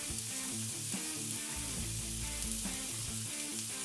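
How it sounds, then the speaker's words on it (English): Zucchini and onions sizzle on a cast iron griddle in a steady, close hiss with a low background hum, no voices. "Just distribute it as well as you can on the griddle."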